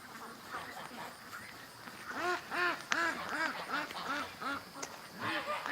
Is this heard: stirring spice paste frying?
no